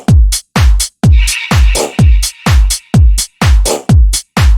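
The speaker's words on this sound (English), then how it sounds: "I'll play you the kick and the hi-hat and the clap" A deep tech house groove runs on a booming kick drum, hitting about twice a second, with crisp hi-hat ticks and a clap between the kicks. It is loud and dry, and a sustained tonal layer joins partway through.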